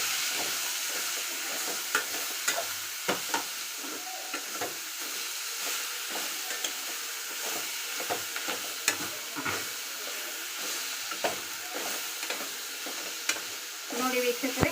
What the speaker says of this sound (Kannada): ನೋಡಿ ವೀಕ್ಷಕರೇ, ಇದನ್ನ ನಾನು ಈಗ ಹುರಿತಾ ಇದ್ದೀನಿ